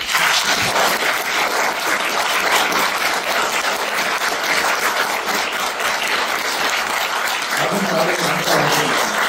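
Sustained, loud applause from a seated audience at an education seminar, dense steady clapping filling the whole stretch with a faint voice briefly surfacing near the end.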